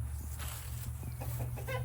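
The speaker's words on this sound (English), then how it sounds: "we can see a little lavender orpingtons are hanging out" Lavender Orpington chickens cluck repeatedly in a garden coop on a rainy day, soft close clucks and chatter over a steady low background hum, with no talking.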